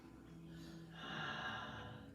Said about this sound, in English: So take that deep breath, deepest breath you've taken.